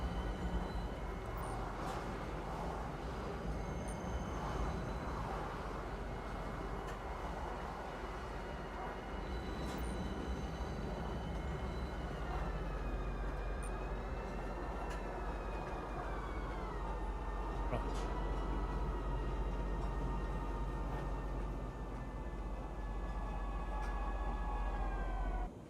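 Train pulling into a station platform in the game Pyro, a steady loud rumble with rising and falling tonal whine from wheels and brakes, continuous throughout with no talk.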